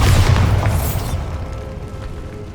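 A Bombarda spell explosion in Hogwarts Legacy, loud and close, opens with a deep booming blast that rumbles and fades over about two seconds.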